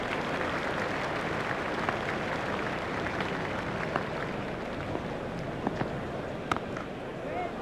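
Dense, steady applause from a stadium crowd in a cricket video game set in a 2002 India versus England match, sustained throughout as spectators stand for a century, with faint commentary voices mixed under the clapping.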